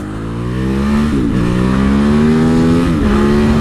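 An Aprilia motorcycle engine revs hard during a second-gear power wheelie, rising in pitch, dipping briefly at a shift, then climbing again in a loud, close, continuous howl.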